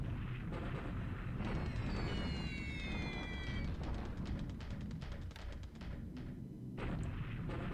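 Booming artillery-style bombardment and gunfire bursts in a WWII Pacific strategy game, Japan against the Allies, a dense continuous rumble with crackling impacts throughout, loud and close with no talk.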